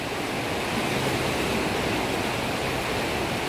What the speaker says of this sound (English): literally right on the Colorado River